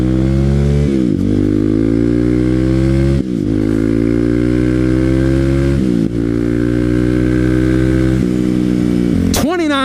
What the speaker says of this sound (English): this damn bike accelerates really well